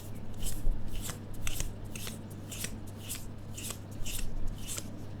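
Tarot cards are riffled and shuffled by hand in a quiet room, giving a steady series of about ten soft, crisp rustles over a low background hum.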